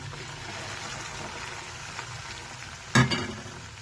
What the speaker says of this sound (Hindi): अभी हम इसको फ्राई करेंगे, पकाएंगे ताकि टमाटर का पानी बिल्कुल खुश्क हो जाए।